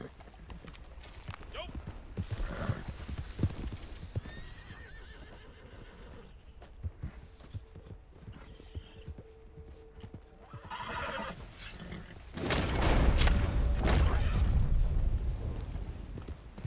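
A horse in Red Dead Redemption 2 whinnies several times and its hooves clip-clop, with other game sounds around it and a louder rumbling passage near the end; a person talks over parts of it.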